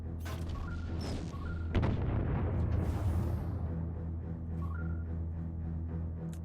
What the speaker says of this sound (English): We're being fired upon!